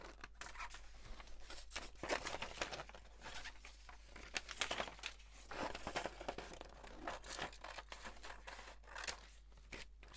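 Scissors snipping along the lines of a paper template for a luminaria tree, a quiet run of close crinkles, crisp cuts and paper rustles in irregular bursts over a low steady hum.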